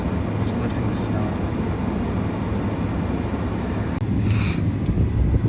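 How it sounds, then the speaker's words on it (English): Torrential wind gusts roar through a snowstorm at about -30 degrees during a winter overlanding camp, a loud, continuous buffeting rush that strengthens toward the end, with a voice faintly under it. "it's just torrential winds"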